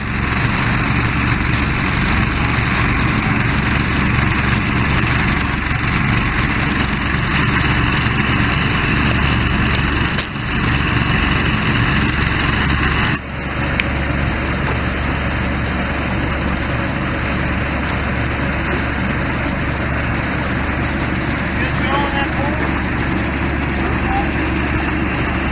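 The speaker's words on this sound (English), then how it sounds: "We've got 4 pumps going at idle." Four water pumps running at idle at a stream diversion site, a loud steady engine drone with constant low hum throughout, and people talking over it.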